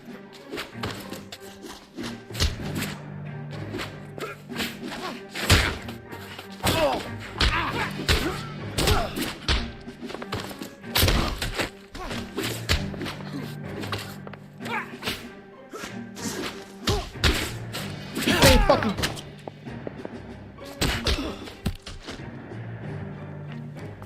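Fistfight punches in L.A. Noire land as a series of irregular heavy thuds and smacks, some loud and sharp, spread across a scuffle with grunts and voices mixed in.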